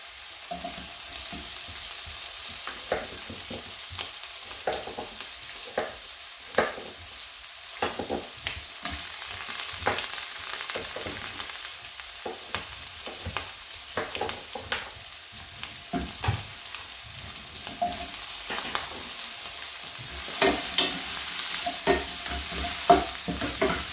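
Carrot and pumpkin frying in a pan for a coconut vegetable stew, stirred with repeated scraping and clattering strokes over a soft continuous sizzle, close and without talk.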